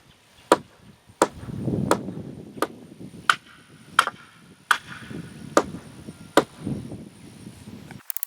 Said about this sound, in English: we are going to drive our rebar through